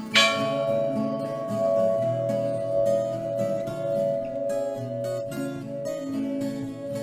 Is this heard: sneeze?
no